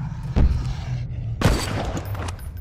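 Gunfire in the video game SNIPZ, with two sharp loud shots about a second apart and short echoing tails, followed by softer bursts under a steady game background.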